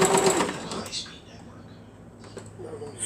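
A sewing machine stitches down part of a beginner's quilt, with a brief busy burst of mechanical whirring and rattle that then drops to a softer hum and a few light clicks, close by.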